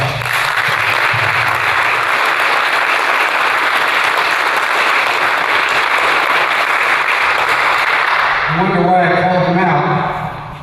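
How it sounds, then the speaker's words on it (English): An audience gives a sustained round of applause, a dense, loud wash of clapping that runs for about eight seconds before fading as a voice begins speaking. "Please join me in giving them a round of applause"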